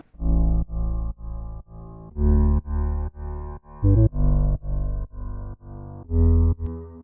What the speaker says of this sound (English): just slightly different bass patch, a bit more of a punchy bass instead of,